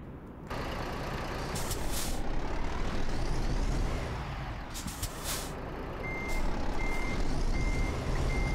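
A heavy truck pulling a trailer backs up in Euro Truck Simulator 2, its reversing alarm beeping steadily over a constant engine drone, with sharp air-brake hisses bursting out now and then. No one speaks.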